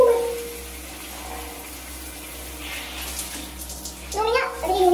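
Tap water runs steadily while conditioner is rinsed out of a woman's hair at home, a continuous splashing wash with a voice talking over it.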